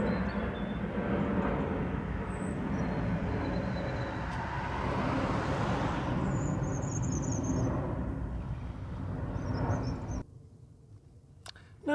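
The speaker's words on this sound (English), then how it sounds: "a very noisy aeroplane from Stansted" A noisy aeroplane out of Stansted passes over the Essex countryside near Broxted, a steady broad roar that rises and holds for about ten seconds and then cuts away sharply to quiet.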